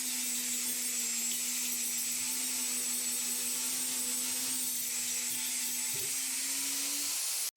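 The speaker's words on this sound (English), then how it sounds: "As you see, the plasma cutter is making really short work of this job." A plasma cutter slicing through a steel drum gives a steady, loud hissing roar with a constant hum, running unbroken for several seconds before cutting off abruptly.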